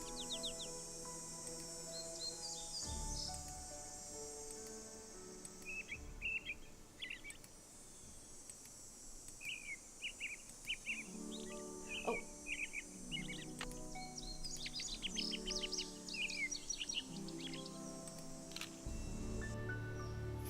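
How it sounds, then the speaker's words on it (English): Birds chirp and trill repeatedly in a lakeside scene from the video game Nancy Drew: Ghost Dogs of Moon Lake, bright short calls coming in clusters over a steady hum of insects and ambient wildlife. "I hear a bird."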